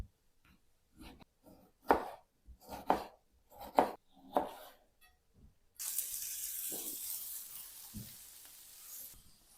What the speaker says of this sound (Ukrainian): Помідор наріжу півкільцями.